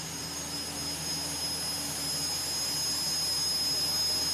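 Turbine pulling tractor powered by three Lycoming T55 turbine engines, about 8,000 to 10,000 horsepower combined, at a 4-H fair tractor pull: a steady, loud jet-like whine and roar with a high tone, continuous throughout.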